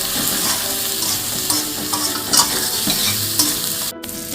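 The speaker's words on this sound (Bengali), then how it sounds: "এবার আমি মশলাটাকে ভালো করে কষিয়ে নিই" Masala with Kashmiri chilli powder, potato and tomato sizzles continuously in a pan as it is stir-fried, with close, busy spatula scrapes over the bubbling hiss and a brief dip near the end.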